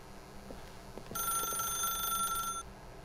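A telephone rings in the video game The Stanley Parable, a bright electronic trill that starts abruptly midway, holds for about a second and a half over a low ambient hum, then cuts off.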